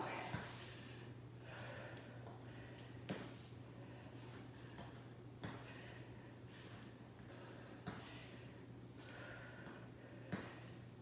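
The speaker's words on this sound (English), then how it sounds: "I'm breathing hard." Heavy breathing from a person exercising during a live strength and stretch workout, with sharp gasping breaths repeating every couple of seconds over a steady low hum, fairly faint.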